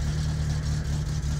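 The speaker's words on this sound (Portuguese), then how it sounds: "Vamos fazer o motor esquentar e vamos regular." A turbocharged car engine in the driving game My Summer Car, warming up at a steady, loud, low idle with a rumbling drone and no talk.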